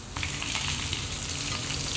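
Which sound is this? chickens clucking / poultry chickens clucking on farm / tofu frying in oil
tofu frying in oil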